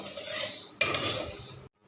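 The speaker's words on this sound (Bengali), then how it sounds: "শুকনো কড়াইতে খুব ভালোভাবে নেড়ে নিতে হবে" Chana dal is stirred in a dry wok, giving a brief dry scraping and rattling of lentils against the metal with a sharp clatter midway before it stops abruptly.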